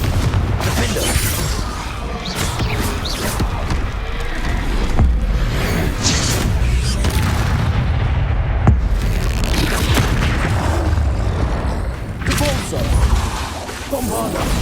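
Bombarda and Confringo spells from Hogwarts Legacy going off in rapid succession, a loud, continuous barrage of deep booms and crashing blasts with shattering debris, heard over a voice talking.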